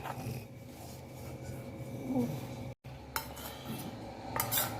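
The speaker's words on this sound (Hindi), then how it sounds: "अब हम इसको मिक्स करेंगे, अच्छे से मिक्स कर लेते हैं" Kabuli chickpea kofta mixture is worked around a bowl with a utensil, giving continuous scraping, rubbing and soft clinking against the bowl, with a brief break partway through.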